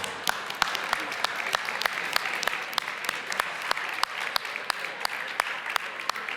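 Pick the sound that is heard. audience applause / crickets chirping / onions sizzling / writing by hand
audience applause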